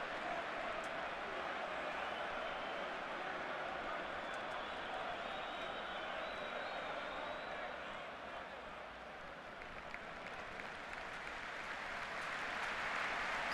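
In a 2005-06 Dutch league football match, a stadium crowd applauds Ibrahim Afellay as he leaves the field. Distant, continuous crowd roar and clapping sits under steady commentary.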